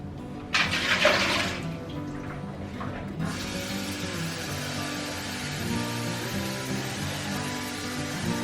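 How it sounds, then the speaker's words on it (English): Water gushes into a pressure canner for canning turkey broth, a loud splashing pour in the first few seconds that settles into a steady, quieter running-water wash for the rest. "So I'm gonna put some water in this"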